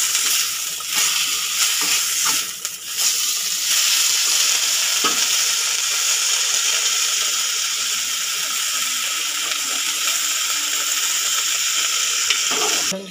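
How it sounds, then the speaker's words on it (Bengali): Spinach and potato stirred and frying in a pan for a vegetarian winter khichuri, a steady loud sizzle with scraping stirring strokes throughout, no voices. "শাক, পালং শাকটা একটু হালকা নেড়ে নেবো।"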